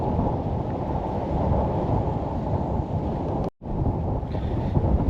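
Strong wind at Çilingoz Nature Park in Turkey buffets the microphone with a loud, continuous low roar, briefly cutting out for a moment before resuming.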